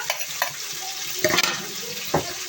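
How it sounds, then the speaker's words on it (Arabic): Sliced onions sizzling in a hot pan as they are stirred, with soft steady frying hiss broken by a few sharper scraping strokes, heard up close and alone. "هننزل بقى ايه بالبصل بتاعنا الحلو ده"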